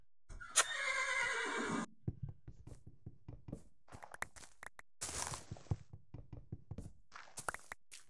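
A horse in the Minecraft video game gives a loud, quavering whinny, followed by a string of blocky knocks and taps, hoof-like steps and a short rushing burst of game effects.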